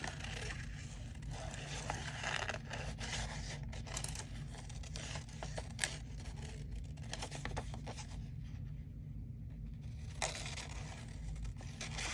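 Scissors cutting paper to trim a figure for an embellished envelope, a run of quiet snips and rustles close by over a steady low background hum, with no talking.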